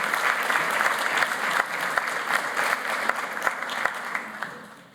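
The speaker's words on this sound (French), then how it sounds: "voilà, vous êtes applaudis" A forum audience applauds panelists at a conference plenary: a sustained round of dense clapping from a sizable crowd in a hall, steady throughout and tapering off toward the end.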